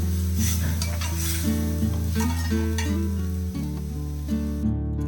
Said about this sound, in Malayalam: ടൊമാറ്റോ കുറച്ച് വഴറ്റണം.